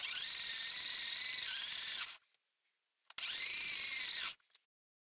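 A high-pitched power tool grinds and polishes the flat side of a wampum shell button in two loud bursts, each roughly two seconds long, separated by a short silence; close and steady, with no talking.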